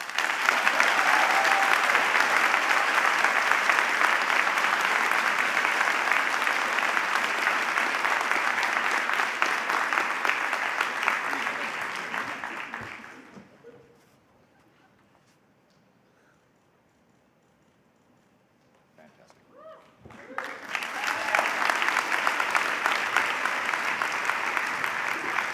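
Staff assembly audience applauding award winners, a dense, loud ovation that fades to near silence midway before a second strong burst of clapping resumes.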